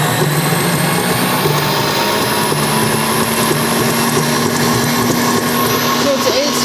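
A Pampered Chef stand mixer runs at a custom-chosen speed with a loud, continuous motor whir. The whir holds steady for several seconds with no pauses.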